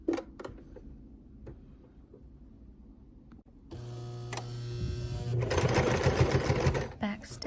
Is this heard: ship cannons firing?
no